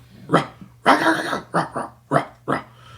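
A coyote's challenge call of sharp, raspy barks and yips, about six bursts in an uneven rhythm, one longer and rougher, loud and close.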